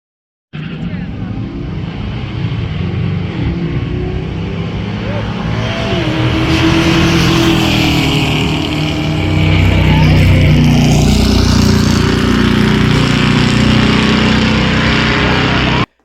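A drag racing car launches down the strip at a no-name nationals event, its loud engine roar sustained throughout and building in intensity partway through, with crowd and track noise mixed in.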